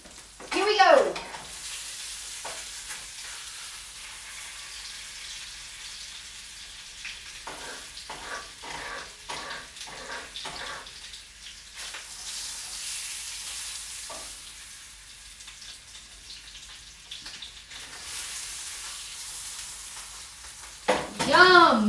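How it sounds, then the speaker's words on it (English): Mushrooms fry in freshly made butter in a pan, a steady close sizzle with stirring and scraping bursts partway through, continuing loudly and evenly throughout. "I'm gonna put some of these mushrooms in there with some of this fresh butter I made"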